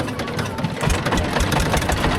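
A boat engine runs steadily at close range on Ghuksir Beel in Naogaon, a continuous mid-pitched mechanical drone with knocking pulses throughout.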